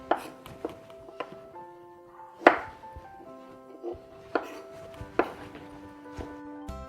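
A knife chops pears into chunks on a cutting board, giving a run of sharp, separate knocks at an uneven pace, close and fairly quiet, with some clinking in between.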